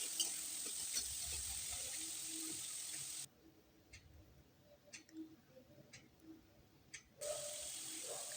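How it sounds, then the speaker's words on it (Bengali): Green peas frying in a pan give a steady hiss with light stirring clicks; the sizzle drops sharply for a few seconds in the middle, then returns at full level. "মটরশুঁটিটা দিয়েও কিছু সময় ভেজে নিতে হবে।"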